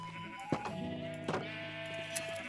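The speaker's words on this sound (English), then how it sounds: "let me grab some of these sheep, some wool" Sheep in Minecraft bleat twice in quick succession, loud and close, followed by a fainter third bleat near the end, with no talking.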